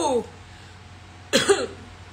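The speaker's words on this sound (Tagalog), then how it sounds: "may ubo ako" A single sharp cough up close, following a brief stretch of speech, then quiet.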